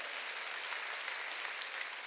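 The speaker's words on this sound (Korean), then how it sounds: "박수로 하나님께 영광 돌려" During a Sunday church service, the congregation applauds in a continuous, even wash of clapping that sounds somewhat distant and fairly quiet, with no voices over it.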